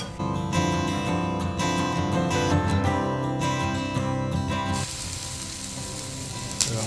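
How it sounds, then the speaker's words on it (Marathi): Thalipeeth frying in oil on a non-stick tawa gives a steady, close sizzle that becomes clearly audible in the last couple of seconds, after loud background music fades out. "इकडे तव्यावर आपण नॉनस्टिक तवा आहे वरून अशी तेलाची थोडी धार फोडायची"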